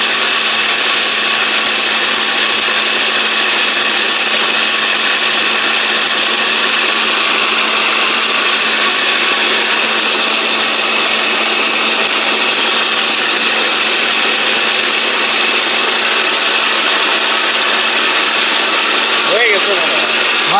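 A Miyako 1400-watt high-power blender with a copper motor runs continuously at full speed, a loud, steady high-pitched motor whine that stays level throughout.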